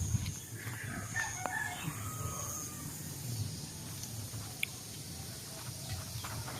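Chickens cluck and a rooster crows at a backyard chicken coop in a rural garden, the calls faint and somewhat distant over a low background hum.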